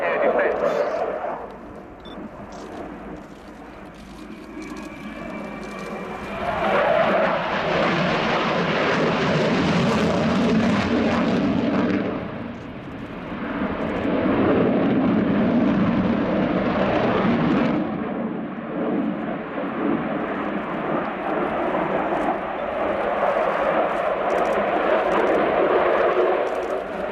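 A Ukrainian Air Force Sukhoi Su-27 jet flies a display at the RIAT 2017 airshow with a loud roaring engine that swells and fades in long waves, while a commentator talks over it.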